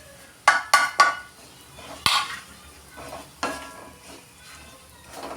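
A spoon stirs Kashmiri chili powder, fenugreek powder and asafoetida into sweet mango pickle frying in a pan. Three quick metallic clinks come first, then scattered scrapes and knocks fade over a soft sizzle.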